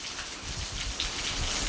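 Steady rain falls throughout, a dense hiss of drops striking a surface with a low rumbling wash underneath, even and continuous with no voices.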